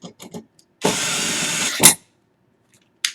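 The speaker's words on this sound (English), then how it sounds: "I'll use a drill to make things go faster." A power drill whirs steadily for about a second, ending in a sharp squeal, with brief clicks and handling noises before and after.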